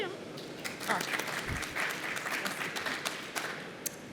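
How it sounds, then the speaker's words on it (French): Applause from a conference audience at an industry event on robotics and logistics, moderate steady clapping with scattered sharper claps and faint voices in the room. "On vous applaudit."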